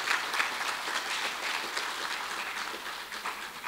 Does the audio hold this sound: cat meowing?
no